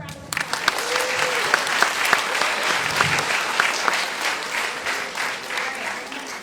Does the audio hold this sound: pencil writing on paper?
no